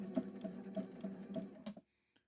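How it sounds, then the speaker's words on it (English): Sailrite sewing machine stitching through leather, a rhythmic run of about six evenly spaced mechanical thumps with a motor whir, stopping abruptly near the end and followed by near silence and one faint click. "I'll start sewing 5 to 10 stitches or so, and then do a practice back stitch"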